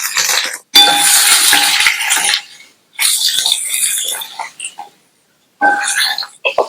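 Potato pieces go into hot oil with cumin and curry leaves, producing loud close bursts of crackling sizzle in three separate stretches with short silences between.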